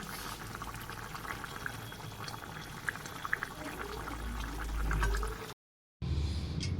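Potatoes boil in a pot of water for spicy Maggi noodles, a steady bubbling and hissing that builds toward the end before a short cut to silence and a final stretch of bubbling.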